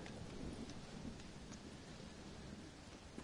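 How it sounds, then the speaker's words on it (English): Steady, dense rain pours in a thunderstorm in the Red Dead Redemption video game, with low thunder rumbling beneath it as an even, continuous wash of sound with no voices. "it's just the storm, John"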